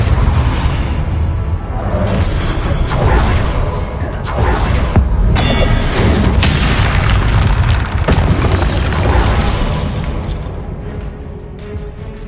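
Depulso force-blast spells firing in the video game Hogwarts Legacy: repeated loud, deep booming bursts with whooshing swells in a dense, continuous game-combat soundscape, close and heavy throughout.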